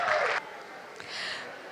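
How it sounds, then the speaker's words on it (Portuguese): Short bursts of group clapping at a team-spirit workshop: a brief loud patch of applause that cuts off, then a softer, thinner round of clapping after a pause. "Uma salva de palmas,"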